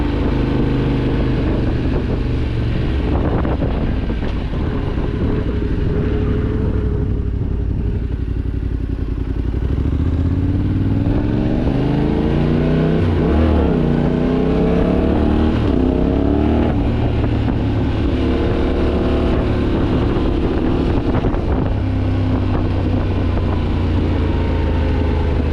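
A Yamaha T7 adventure motorcycle with a cracked engine, ridden hard during testing, its engine droning and rising and falling in pitch as the throttle opens and closes, loud and steady for the whole stretch.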